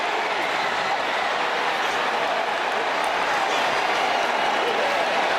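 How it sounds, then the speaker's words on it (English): A stadium crowd roars after a Toledo touchdown at Ohio State in a college football game, a dense, steady wall of cheering and applause that stays loud and unbroken. "That rocket crowd in the end zone is loving it."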